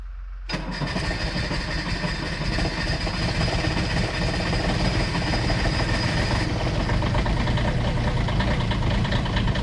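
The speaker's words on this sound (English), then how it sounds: "new, to me, tractor warming up." A Valmet 505 tractor engine turns over and catches, then settles into a loud, steady idle close by, rumbling evenly as it warms up.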